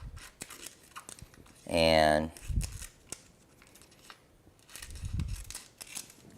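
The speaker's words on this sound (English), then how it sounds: "Or I can just grab my scissors" Scissors snip through heat transfer vinyl on a hat project, a few short crisp cuts scattered between moments of quiet, with a brief spoken word and a loud tonal noise near the start.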